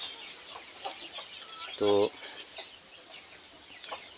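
Free-range hens cluck softly and sporadically nearby, with one brief, louder clucking call standing out, while someone talks quietly over the barnyard.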